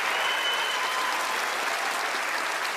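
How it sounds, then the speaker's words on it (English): Sustained, loud studio-audience applause on a magic show as the performers Penn and Teller come onto the stage, an unbroken roar of clapping with no speech. "let's give them a warm round of applause as they join me up onto the stage."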